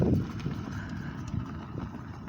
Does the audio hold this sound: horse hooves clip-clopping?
yes